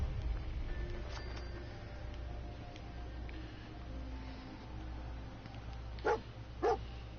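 Dogmeat, the German shepherd companion in Fallout 4, gives two short barks near the end, heard over a steady low game ambience and rumble.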